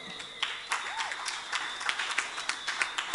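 An audience at a security guard service's quarterly and annual award ceremony claps in a scattered round of applause, individual claps popping out at uneven intervals amid light background murmur.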